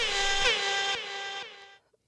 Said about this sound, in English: Let's give him a big old air horn.